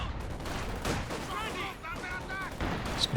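An artillery barrage in the Company of Heroes 2 strategy game, with repeated booming impacts and explosions layered under continuous battle noise and whistling shells, while a commentator talks over it.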